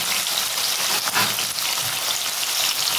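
Potatoes fry in a hot pan with a dense, even sizzle and crackle that fills the whole moment, close and loud, with no talking.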